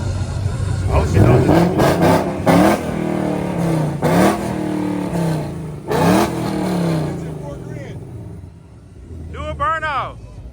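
A Ford Mustang GT fitted with Kooks headers revs hard several times, each sharp loud burst of exhaust climbing and dropping back, with brief idle gaps between and a faint fading pass near the end.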